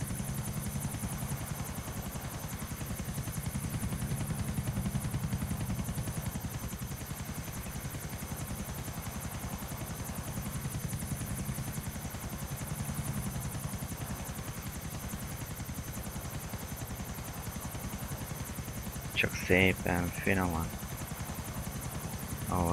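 A helicopter in Grand Theft Auto IV hums steadily as it flies and sets down on a rooftop, a continuous rotor drone. Someone speaks briefly near the end.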